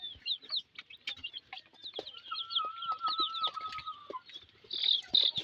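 Fancy-breed chickens, such as Bahama and Silkie types, cluck and chirp steadily at a farm, with a sustained higher call running through the middle and a burst of louder clucking at the end; no talking.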